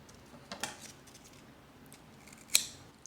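Scissors snip old leaves from an oncidium orchid during cleanup, with two crisp close cuts a couple of seconds apart against quiet background.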